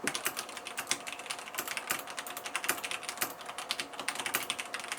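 Continuous typing on a red-switch mechanical keyboard, rapid smooth keystrokes without sharp clicks, close and steady throughout.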